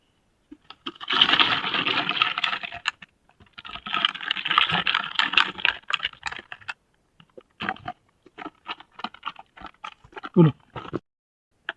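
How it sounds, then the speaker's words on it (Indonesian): NPK fertilizer mix sloshing in a closed sprayer tank as it is shaken, two bursts of rattling, splashing liquid noise followed by scattered knocks and clunks, close and moderately loud. "kemudian sekarang saatnya kita tutup tangki penyiraman, lalu kita kocok dengan cara digoyang-goyang"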